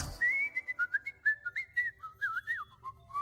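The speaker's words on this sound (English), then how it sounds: "I want to learn how to whistle." A person whistles a lively, wandering tune alone and close up, with short bright notes and quick pitch bends in a steady run of phrases.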